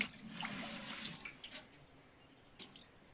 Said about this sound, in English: The water is running down.